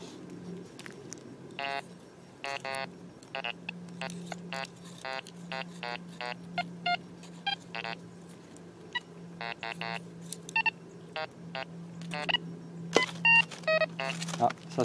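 A metal detector sweeps over buried metal at a militaria detection outing, giving a long run of sharp, close electronic beeps in irregular bursts over a low steady hum, with a person talking softly at times.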